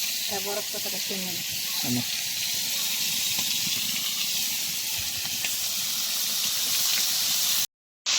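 Fish frying in a pan gives a continuous close hissing sizzle, with brief voices in the first couple of seconds before the sizzle carries on alone and then drops out.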